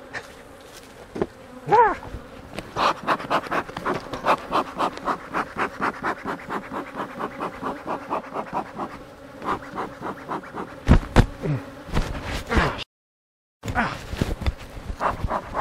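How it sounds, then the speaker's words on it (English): Honey bees buzz loudly and close by during a hive inspection, a rhythmic pulsing drone with scratching and handling noises, and a person cries out briefly near the end. "these crazy bees on me"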